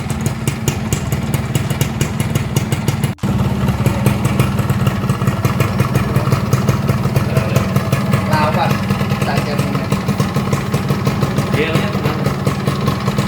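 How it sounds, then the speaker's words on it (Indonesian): A Suzuki Satria two-stroke underbone motorcycle idles close and steady, a fast even engine throb with faint tinny rattles running throughout, as someone speaks quietly beneath it. "Suara mesin juga masih halus."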